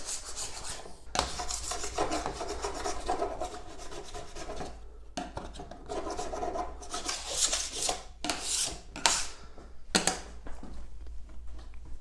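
Wax being scraped off a snowboard base, rough rasping strokes repeated in uneven bursts with short pauses between passes, close and fairly loud with no talking.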